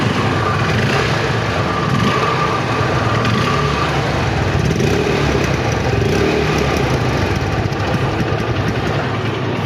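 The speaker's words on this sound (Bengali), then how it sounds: "বাইকটার সাউন্ড কোয়ালিটি দেখাই" A Hero Hunk motorcycle engine runs steadily close by, with a continuous loud idling rumble and light mechanical chatter and no voices over it.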